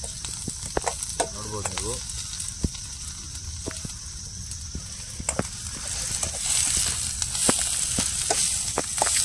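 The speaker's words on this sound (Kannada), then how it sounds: "ಕ್ಯಾನ್ ಸಿ ಗೋಲ್ಡನ್ ಬ್ರೌನ್ ಬರೋವರೆಗೂ ಫ್ರೈ ಮಾಡ್ಕೊಳ್ಳಿ" Chicken liver frying in oil in a pan, a steady close sizzle with frequent sharp pops and crackles that grows slightly louder later, and a brief voice speaking over it.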